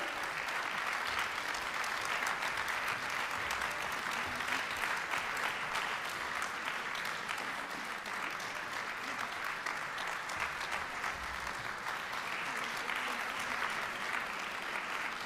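An audience claps steadily at an award ceremony for a national vocal competition, a dense, even wash of applause from many hands that carries on without a break for the whole stretch.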